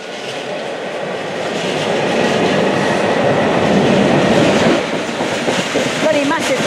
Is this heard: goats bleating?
no